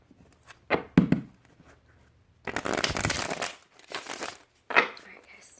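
Tarot cards shuffled by hand in a few separate bursts of riffling and sliding, close and fairly soft, with short pauses between them.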